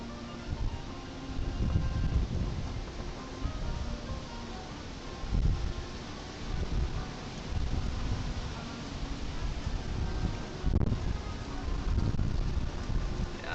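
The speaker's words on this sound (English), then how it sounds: "Wind just took it there." Strong outdoor wind buffeting the microphone during outdoor painting, heavy rumbling gusts that swell and fade in waves over a constant broadband roar.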